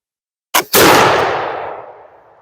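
A single loud gunshot aimed at a shooting target, with buckshot hitting it, cracks out after a brief sharp pop and rolls away in a long, fading outdoor echo.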